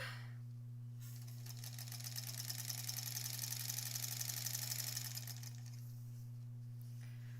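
A sewing machine stitches around a quilt, its steady mechanical whir holding for several seconds over a constant low hum, then stopping.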